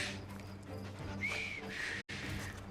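A character in Assassin's Creed Syndicate whistles two short rising-then-held tones in the mid-high range, fairly clear over a busy Victorian street bed with faint hooves and murmur, cut by a brief dropout near the end.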